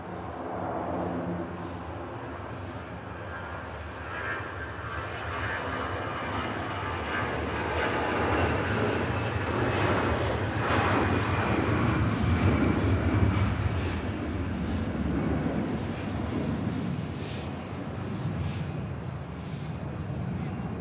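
A departing passenger jet bound for Paris from Manchester Airport gives a steady, loud engine roar that swells toward the middle and holds, alone without talk.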